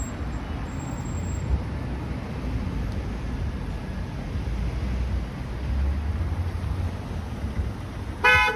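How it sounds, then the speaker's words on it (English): A car horn honks amid steady traffic rumble on Yonge Street in Toronto, a short blast near the end over continuous roadway noise, with no talking. "that black car was just honking at that car because he was trying to back up"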